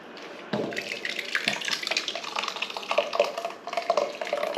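Liquid splashes and gurgles as it is poured into a pot, a steady close-up pour lasting a few seconds.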